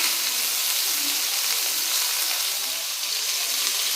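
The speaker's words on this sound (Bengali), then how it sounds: "এখন আমি সোয়াবিনগুলোকে ভেজে নেব, তাই সোয়াবিনটা কড়াইতে দিয়ে দিচ্ছি।" Soybean chunks frying in oil in a wok, a loud, dense, continuous sizzle close up and unbroken, with no talking.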